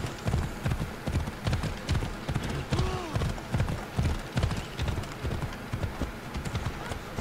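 Phobos the horse trots in Assassin's Creed Odyssey, hooves clip-clopping in a quick, steady rhythm close by, with a brief whinny partway through and a faint voice underneath.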